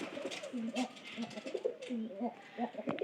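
Pigeons in a loft coo repeatedly in low, rolling calls, several birds close by with overlapping coos and faint rustling throughout.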